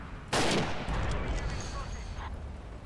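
A World War II machine gun in the FH2 game mod: one loud, sharp report cracks out, then a long rumbling decay fades behind it.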